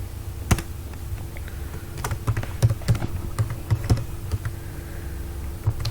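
Typing on a computer keyboard, a close run of uneven key clicks that grows busier partway through, with no voice over it.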